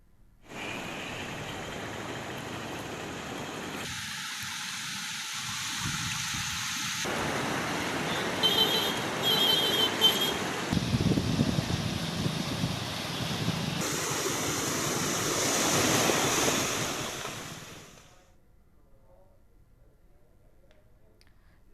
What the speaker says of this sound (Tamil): குரும்பூர் ஏரல் சாலையை மூழ்கடித்தபடி தண்ணீர் செல்கிறது.